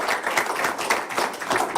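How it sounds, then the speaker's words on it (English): Brief, moderate clapping from a small group at a school board meeting, thanking presenters with a dense patter of hand claps and no voices over it. "let's give them a round of applause"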